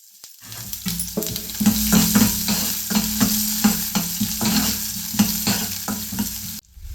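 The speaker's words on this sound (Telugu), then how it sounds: "ఇంకా మనం సన్నగా తరిగిన ఎర్రగడ్డలు అయితే వేసేసుకుందాము." Thinly sliced onions hiss and sizzle in hot oil with dried red chillies for poha upma, while a spoon stirs and scrapes the pan in repeated close strokes.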